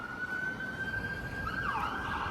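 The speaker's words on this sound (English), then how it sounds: "Oh, we got more sirens." A wailing emergency siren sweeps up and down over steady traffic rumble in downtown Toronto's Financial District, with a second siren tone joining toward the end.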